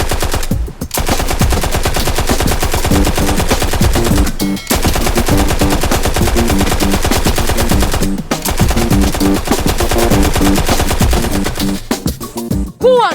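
Rapid, loud bursts of rifle gunfire at a rifle club shooting practice, near and continuous, with brief pauses between sustained volleys and no talk over them.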